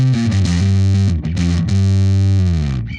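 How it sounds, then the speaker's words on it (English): Bass synth run through a Big Muff-style fuzz distortion simulation, playing a thick, sludgy stoner tone as a steady sustained line with a few note changes, loud and alone before fading at the end. "And now let's engage the Big Muff."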